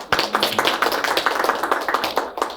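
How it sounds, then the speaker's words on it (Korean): Rapid, steady hand clapping at close range in a lecture setting, about twenty sharp claps in an even rhythm with no talking. "강의할 때는 연체동물로 변신해서 손뼉을 자주 쳐야 됩니다."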